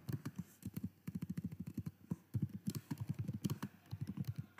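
Fingers type on a computer keyboard in quick bursts of close, crisp key clicks, pausing briefly between runs of keystrokes while a search is entered in Power BI Desktop.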